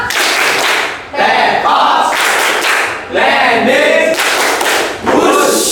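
Rhythmic group clapping chant in a classroom guidance session, several bursts of patterned claps from a group of students, loud and close, separated by brief pauses.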